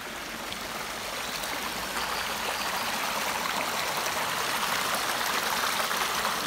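Water flows steadily where two brooks meet in a palace park, a loud, even rushing and babbling that grows slightly stronger after the first couple of seconds, with no voices.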